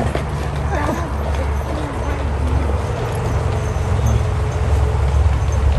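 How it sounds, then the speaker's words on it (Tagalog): Horse hooves clip-clop on pavement amid street noise and traffic at a Philippine fiesta in Canada, with people chatting nearby in the background. "Kaya may kabayo dito, yun ang ginagawa."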